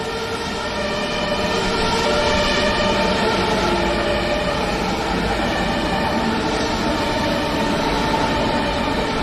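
A train passes steadily at pace, a dense continuous rumble and rail roar with tonal whine layered on top, loud and close throughout with no talking.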